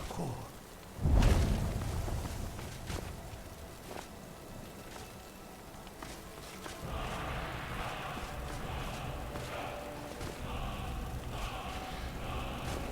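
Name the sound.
storm with rain and thunder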